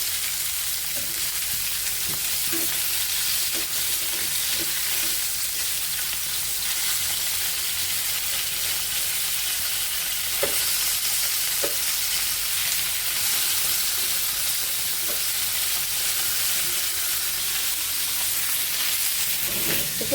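Steady, dense sizzling of potatoes and pointed gourd frying in oil, continuous throughout, with a few soft clicks of stirring.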